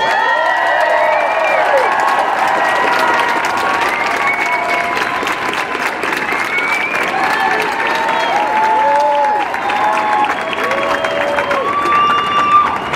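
A large crowd at a protest rally claps loudly and continuously, with scattered cheers and whoops rising from the mass of applause.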